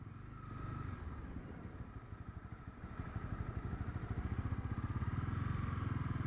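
A motorcycle engine idles with a low, lumpy thrum, then rises into a faster, pulsing rev that grows steadily louder and more rhythmic toward the end, heard close and alone.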